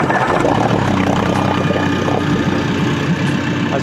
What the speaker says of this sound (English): As you heard, the engine wasn't far enough down, so the sound was slightly off